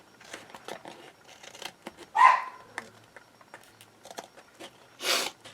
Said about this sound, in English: this needs a little bit of cutting